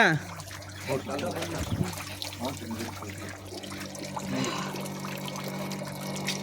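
Water pours and splashes steadily from a village well nearby, a continuous gushing trickle with voices talking over it.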